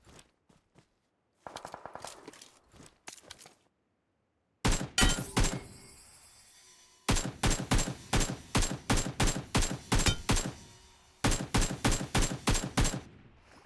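Bursts of automatic gunfire from a firefight in PUBG Mobile, rapid repeated volleys with short pauses, some sharp and close, earlier shots quieter and more distant, no talk over them.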